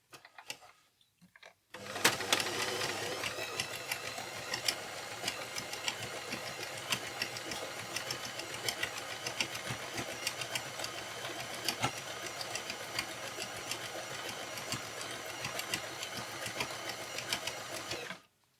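A Family Hobby Line 39 household sewing machine stitches an imitation overlock seam with a universal size 90 needle, starting after a brief pause and then running at a steady, fast, mechanical rattle close up for about sixteen seconds.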